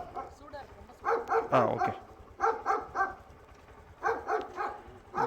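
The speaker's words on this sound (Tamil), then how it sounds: "நாய் பயங்கரமாக குலைக்குது." A dog barks loudly and repeatedly in several close bursts during a food delivery pickup, with a voice speaking briefly over it.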